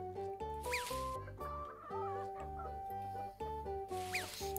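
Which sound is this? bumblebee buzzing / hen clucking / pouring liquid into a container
hen clucking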